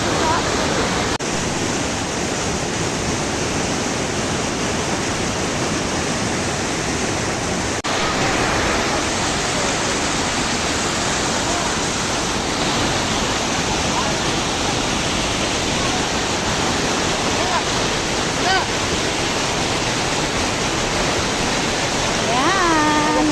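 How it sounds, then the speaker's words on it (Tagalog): Sprite Falls, the main waterfall in Majayjay, Laguna, roars loud and constant at close range, a dense unbroken rush of falling water that fills the whole scene. "Ito yung pinaka main falls nila na Sprite Falls."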